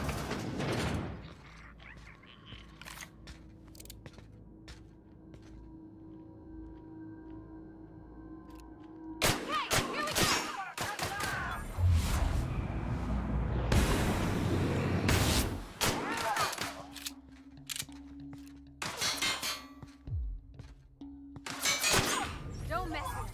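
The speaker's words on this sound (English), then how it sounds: "You guys don't hear all the shooting going on back here?" Gunfire in The Outer Worlds comes in scattered loud bursts and shot clusters between quieter stretches of humming ambience, with game voices talking in between.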